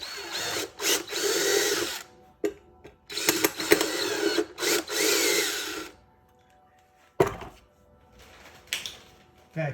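Power drill boring through the metal chassis of a 50-watt amplifier head, in several loud bursts of a few seconds each, separated by pauses and ending in short intermittent grinding.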